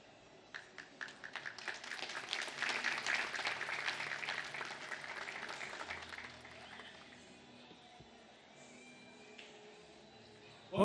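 Audience applause at a Maha Shivratri cultural programme in Mauritius, building quickly into dense sustained clapping for several seconds, then thinning and fading to a quieter tail.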